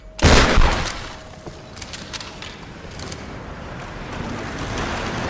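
A single loud shotgun blast from a Lara Croft video game bursts at the start, followed by a faint, lingering game ambience with small clicks.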